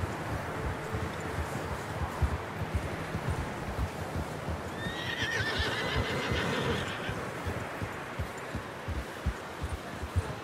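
In the Red Dead Redemption video game, a horse gives a single whinny midway while hooves clop steadily underneath, set against a busy outdoor background.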